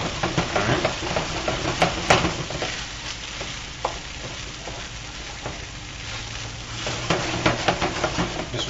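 Egg and rice for pork fried rice are stirred in a hot pan, with a steady loud sizzle and frequent scraping stir strokes throughout, and no voices.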